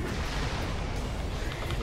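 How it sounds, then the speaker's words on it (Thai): Explosive shots and blasts from Dota 2 fill the clip, a dense, loud barrage of booming bursts running continuously for about two seconds. "ยิงของระเบิดไปอยู่"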